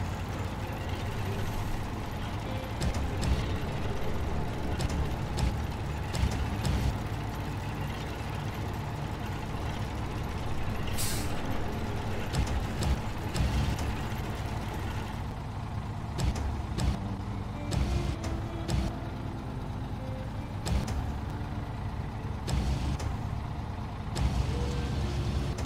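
Heavy truck engine from the SnowRunner game runs steadily and fairly loud throughout, a low droning rumble with occasional mechanical clanks and air-brake hisses, no voices.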